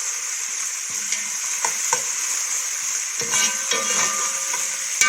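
Onion frying in a pan while being stirred, a steady bright sizzle with intermittent scraping and clinks of the stirring utensil, close and continuous with no talking.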